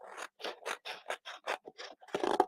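Scissors snip through paper card during a fold-out window card craft session, cutting in a quick series of about ten crisp strokes, then a rougher rustling scrape at the end; close and alone.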